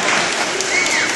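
A crowd at a lucha wrestling show applauds, producing a dense, steady wash of clapping and cheering for a brief moment with no clear voice on top.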